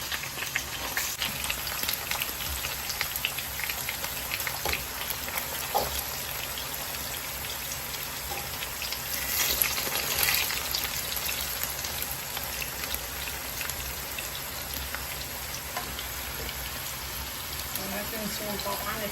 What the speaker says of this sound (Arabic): كل شيء لازم يتقلى ويتغير لونه الى الذهبي